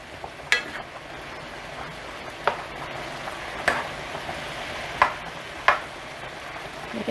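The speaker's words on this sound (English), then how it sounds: "have it simmer until about a quarter to a half of the broth or wine has" Shrimp scampi simmering in broth and white wine, a steady soft bubbling hiss with a few sharp stirring clinks of a utensil against the pan spaced through it, close and moderately quiet with no talk.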